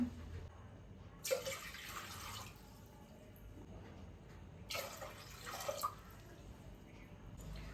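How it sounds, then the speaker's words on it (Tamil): Two separate pours of water into a pressure cooker, each a splashing rush lasting about a second or two, with quiet room noise between them. "இந்த டம்ளரில் 3 டம்ளர் தண்ணி ஊற்றிக்கிறேங்க"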